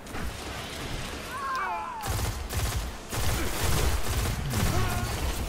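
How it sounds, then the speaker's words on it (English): Rapid bursts of pulse rifle gunfire in the Destiny video game, dense rattling volleys layered with game effects and booms, loud and continuous; talk is faintly heard in the mix. "Maybe I'm not good with pulse rifles."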